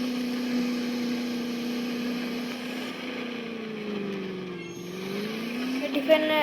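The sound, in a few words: Land Rover Defender climbing in Indian Vehicle Simulator video game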